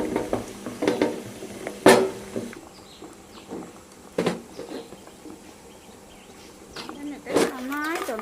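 Ground ingredients are stirred into a shampoo bar base with a spoon, producing soft scraping and a few sharp knocks against the container, with quiet sticky mixing between them.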